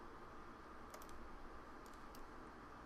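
Small computer mouse clicks while a dimension tool is used in a drawing program over a Google map image, heard as a few faint, quick clicks in two short clusters over a quiet background hiss.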